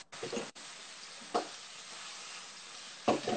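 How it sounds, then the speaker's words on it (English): Tofu sizzles steadily as it fries crispy in a hot pan, a constant hiss broken by a few louder clatters of stirring. "once you get your tofu frying nice and crispy"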